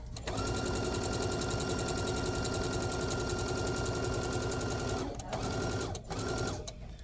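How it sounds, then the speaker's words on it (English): A sewing machine runs a steady quarter-inch seam on a wine bag lining, loud and continuous for about five seconds, then stops briefly twice near the end before restarting. "I just twist it around and start sewing that other side again at a 1/4 inch seam allowance."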